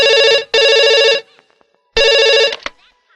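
A telephone rings in a house: three loud electronic ring bursts, two close together and a third after a pause, with faint clicks between them.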